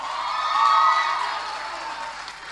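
Students at a campus meetup at Bingham University, Nassarawa, Nigeria send up a broad wash of crowd noise with cheering and shouting. It swells early, then holds steady as a dense, fairly close din.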